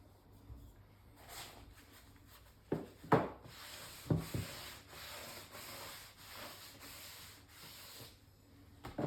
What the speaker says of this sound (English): That's me just removing a little bit of the stain.